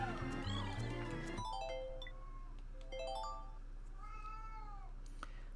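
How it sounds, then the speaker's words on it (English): An elderly pet cat with dementia meows several times, short wavering cries spaced apart, faint against a quiet steady background hum after a brief burst of other sound. "Again, apologies for my cat."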